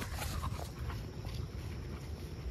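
An American Bully dog runs outdoors, its quick footfalls and breathing faint and distant against a steady background noise.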